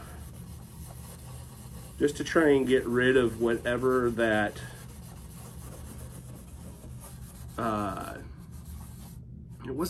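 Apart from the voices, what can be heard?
wet sanding metal with furniture finishing paste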